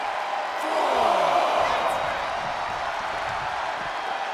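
An arena crowd roaring in the WWE 2K24 wrestling video game, a broad, steady wash of cheering that swells briefly and then holds level.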